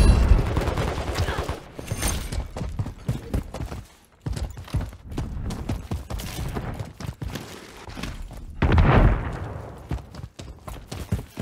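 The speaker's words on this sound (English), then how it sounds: "Grenade." A grenade blows up in Call of Duty MW3 amid a steady crackle of rapid gunfire and footsteps, the blast a loud broadband burst late in the stretch before the shooting carries on.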